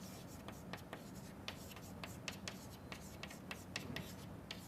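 Chalk or marker strokes on a board during a chemistry lesson on pentane isomers, a steady run of short scratchy taps and rubs, close and fairly quiet over low room noise with no talk.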